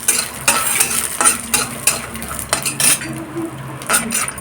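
Red chillies and garlic fry in hot oil in a pan while a metal spoon stirs them, with repeated scraping clinks against the pan over a soft background sizzle, close up.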